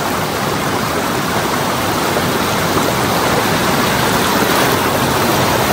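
Water pours into a drinking-water spring source in Lamjung, a loud, constant rushing that fills everything without a break, close by and unchanging, with no voices.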